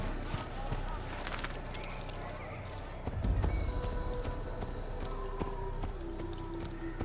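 Horse hooves galloping in the Assassin's Creed video game after the rider mounts, a steady rapid clip-clop that keeps going under game music, with voices talking over it.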